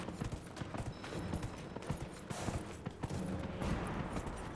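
Horse hooves clip-clop in the Dragon Age: Inquisition video game, a steady rhythmic trot of close, sharp impacts over a noisy outdoor game background.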